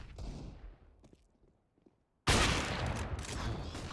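Rapid bursts of rifle gunfire from the video game CS:GO on the Dust2 map during a pro match, a few quieter shots and footsteps first, then a loud sustained fusillade after a short near-silent gap.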